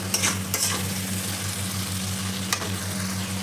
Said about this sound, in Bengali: এরপরে আমি এর মধ্যে দিয়ে দেবো ম্যারিনেট করে রাখা চিকেনটা চিকেনটা দিয়ে ভালো করে চিকেনটাকে কুচে নেব